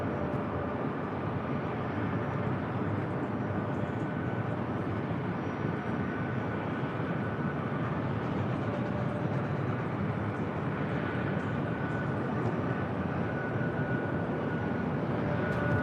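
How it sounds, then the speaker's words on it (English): A Korean Air Airbus A380 at LAX, pushing back from the Tom Bradley gates for a north side departure, gives a steady, dense jet roar that holds at even loudness without a break and with no talk. "Korean Air, Flight 18, heading back to Seoul, the A380 Super, now pushing back from the gates of Tom Bradley"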